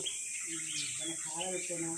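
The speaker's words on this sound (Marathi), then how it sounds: "चिमण्या किती आल्यात पटकन बघ" Sparrows chirp in short, bright bursts, several calls overlapping at a moderate distance, with a person speaking over them.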